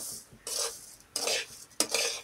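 Coarse semolina (rava) being stirred as it roasts in a pan over a low flame for jaggery lapsi: three distinct scraping sweeps of a spoon against the pan, close and fairly loud, with short pauses between.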